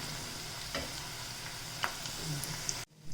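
Spices tempering in hot oil for a broad bean and red chilli chutney give off a steady, close sizzle with a few sharp pops and a brief stir, ending in a sudden cutoff.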